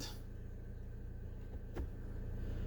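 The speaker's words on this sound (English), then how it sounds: "I've got my parking brake on, my foot on the brake, and I'm just cycling through the gears" A 2016 Toyota Corolla idles with the parking brake set while the transmission is shifted through its gears, giving a low, steady engine hum with a faint brief clunk partway through.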